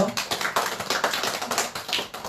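A church congregation claps together during an Easter Sunday service, with quick, evenly spaced hand claps in a steady rhythm that fills the room at close range.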